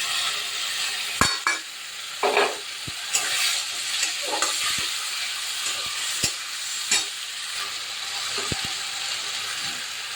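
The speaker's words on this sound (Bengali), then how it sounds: "পেঁয়াজটা ভাজা ভাজা হয়ে গেছে এবার মশলাটা দিয়ে দিই" Spice paste with fried onion sizzling in oil in a pan, a steady soft frying hiss broken by several sharp clinks and scrapes of a stirring spoon, close and without talk.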